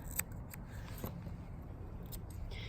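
Scissors snip hair around a Bernese Mountain Dog's paw and toe pads, a few sharp, quiet, close cuts spaced irregularly against a faint room hush.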